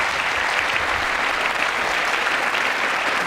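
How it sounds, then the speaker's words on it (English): Audience applause during a State of the Union speech, a thick, even wash of clapping from a large room, steady and loud throughout the short stretch. "clapping"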